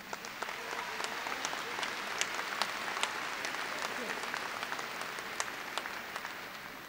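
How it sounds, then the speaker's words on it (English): A graduation audience gives steady applause for the academic deans, a dense wash of clapping with sharp individual claps, heard alone. "Would you please stand up and would you applaud our academic deans?"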